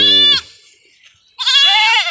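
Anglo-Nubian goat on a farm gives two loud, close bleats, a short one followed after a pause by a longer wavering cry.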